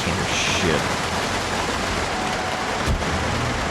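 Steady heavy rainfall in the video game Project Zomboid, a loud, dense hiss with a low rumble beneath it, continuous throughout with a faint tonal sweep near the start.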